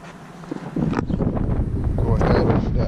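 Gusty wind buffeting outside a BMW 135i, rushing and roaring against the microphone, growing louder after the first second, with a voice faintly mixed in.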